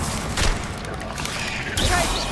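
A Bombarda blasting spell goes off in Hogwarts Legacy: a rumbling, crashing blast with a thump near the start and another surge of debris-like crackle later, over a constant low roar.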